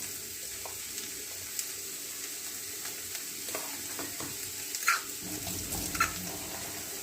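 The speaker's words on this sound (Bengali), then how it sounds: "এবার শাকটা ভাজা ভাজা হয়ে এসছে" Leafy greens (shak), boiled first with a little salt, sizzle steadily in a pan, with a soft continuous fry and a few scattered stirring clicks and scrapes, fairly quiet and close, with no talking.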